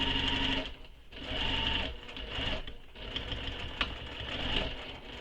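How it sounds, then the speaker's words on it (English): A sewing machine stitches fabric for a circular bag, running in several close, fairly quiet bursts of rapid mechanical whirring separated by short pauses. "I'm just sewing off the edge of the fabric here."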